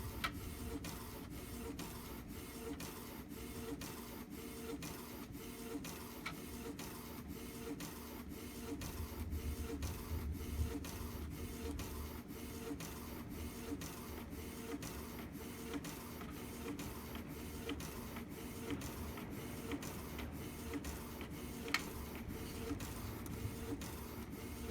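A printer runs steadily for the whole stretch, printing a colored image for a Cricut print-then-cut project, its mechanical whir and rhythmic carriage passes continuous and close, with no talking.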